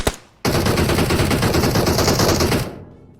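Automatic gunfire in the mobile game PUBG Mobile: a single loud, rapid burst of shots begins abruptly after a brief pause, rattles continuously for about two seconds, then fades out in a short echoing tail.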